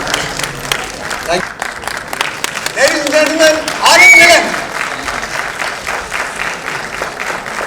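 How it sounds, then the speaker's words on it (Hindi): A large audience at the Dadasaheb Phalke Award 2017 ceremony applauds loudly and steadily as an announcer speaks over the clapping on a microphone. "Please get your hands together."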